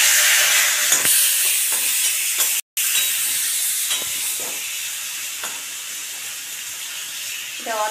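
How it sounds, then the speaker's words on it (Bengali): A fish head fries in hot oil, making a loud, continuous hissing sizzle with a brief dropout, then a few faint clinks and spatters toward the end. "এবার আমি মুড়োটা ভেজে নেব।"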